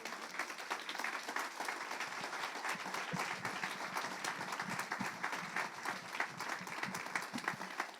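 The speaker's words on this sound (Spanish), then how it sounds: "¿Cuántos le pueden dar un aplauso al Señor fuerte?" A church congregation claps in steady, sustained applause at a Spanish-language service, many hands blending into a dense, even roar at moderate distance with no clear voices over it.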